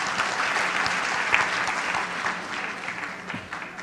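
Sustained applause from an audience at a Marathi talk event, a steady dense wash of clapping held at even loudness for the whole stretch.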